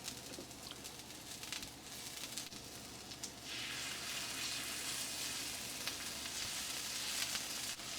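Onions and steak sizzling in a pan, a close, continuous frying hiss that swells louder and denser midway and holds steady with faint crackles.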